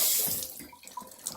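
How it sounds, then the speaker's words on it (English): Water runs steadily from a repaired tub-and-shower faucet with a fixed diverter, a close, continuous splashing rush with no voices. "we got good water flow and very little coming out of that faucet part"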